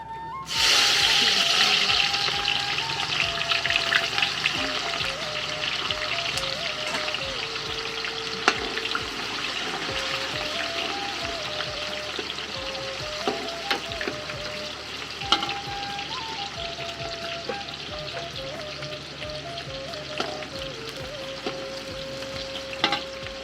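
Onions sizzle in hot oil at the start of a pork curry with greens, an intense crackling burst at first that settles into a steady close fry, with occasional stirring clinks and a faint tonal hum.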